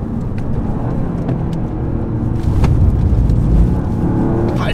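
Toyota Yaris GR Four hot hatch driven hard on track, its engine rumble steady and loud with a surge partway through as it brakes and loads up, no talk over the mechanical noise.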